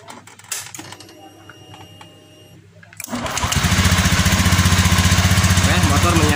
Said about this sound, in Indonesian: Oke, motor menyala Pak ya